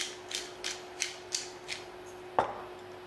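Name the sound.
whisking eggs for chicken fried rice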